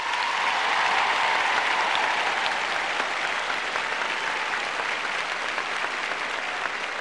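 Audience at the 1973 Miss World pageant applauds the arrival of judge Gregory Peck, a dense, steady wash of clapping from many hands that holds loud throughout.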